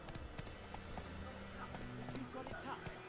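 Clip-clopping hooves from the horse Roach in a video game, a quick uneven trot ringing out over other game sounds, quiet in the mix, with a player's voice chatting over it.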